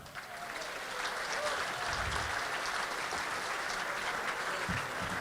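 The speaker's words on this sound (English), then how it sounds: "Let's have a nice round of applause." Audience at a Manchester United dinner breaks into a sustained round of applause, dense steady clapping filling the room, fairly distant, with a host's voice over it.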